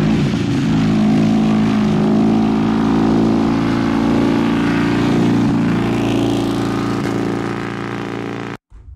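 Vintage Hans Grade car, one of its last four surviving cars, passing close by with a loud, steady engine drone and a slight rise in pitch, holding level before cutting off abruptly at the end.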